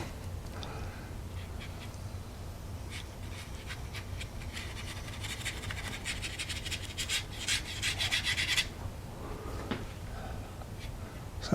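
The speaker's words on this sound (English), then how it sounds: "Sounds like I'm really scraping hard, but it's this brush that I'm using, this Sterling Edwards number 8 round, is sort of a synthetic bristle brush." A synthetic-bristle Sterling Edwards number 8 round brush scrapes and rubs across watercolor paper close up. The scratchy, dry strokes build and become more intense toward the middle, over a steady low background hum.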